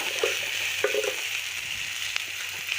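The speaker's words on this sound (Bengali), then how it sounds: "লবণ দিয়ে আর হলদি দিয়ে আলুটা ভেজে নেব কড়া করে, একটু কড়া করে ভাজবো।" Potatoes fry in a pan with salt and turmeric, making a soft, steady sizzling hiss with a few light knocks from handling, with no speech.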